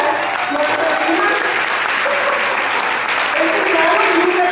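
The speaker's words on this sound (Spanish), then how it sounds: "Aplaudan si tienen ganas." Sustained audience applause fills a leadership-development retreat hall, a dense steady clapping that stays loud throughout with voices mixed underneath.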